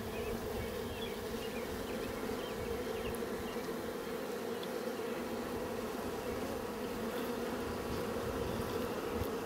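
Dense, steady buzzing of many honeybees around an open hive close by, a continuous droning hum with no voices.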